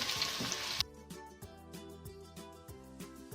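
Onions fry with ginger-garlic paste stirred in, giving a steady sizzle in a pan with repeated scraping strokes of the stirring spoon, close and moderately loud.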